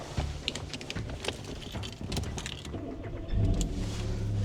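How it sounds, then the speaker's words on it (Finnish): A cheap old manual petrol car, bought as Finland's cheapest roadworthy one, with keys rattling and cabin clatter before the engine cranks and catches into a steady idle rumble for the last second, close up with no talk. "Auto lähti käyntiin"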